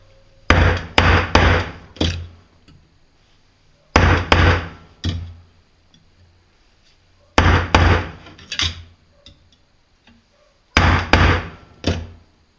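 A hammer striking a screwdriver into a wooden block to bore a hole, four separate bursts of sharp, close blows, each burst holding three or four hits in quick succession, with quiet pauses between.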